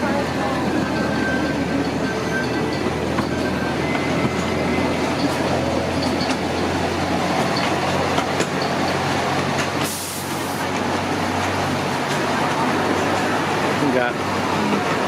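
Amusement park train ride at Knoebels Grove, a continuous rumbling rolling with rhythmic wheel clatter and a brief hiss of air near the middle.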